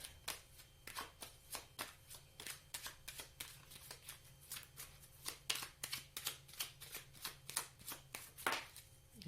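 Tarot cards are shuffled again and again in quick riffling bursts, a crisp rapid flutter repeating steadily at close range.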